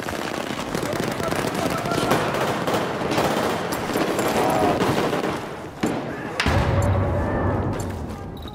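Rapid bursts of gunfire from Battlefield 4 rattle almost continuously, dense volleys of automatic shots layered together, loud and close, with a brief dip before another heavy burst near the end.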